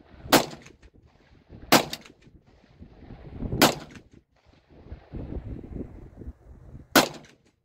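A S&W M&P 22 Magnum pistol fires four sharp, loud, close shots at irregular intervals, with quieter shuffling and low rumbling between them.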